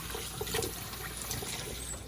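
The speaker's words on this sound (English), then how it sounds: "So guys, I'll be washing my peas." Dried peas are washed in water while cooking Jamaican rice and peas, giving a continuous sloshing, trickling wash of water with small splashes, near and steady for about two seconds.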